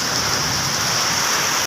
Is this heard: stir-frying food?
no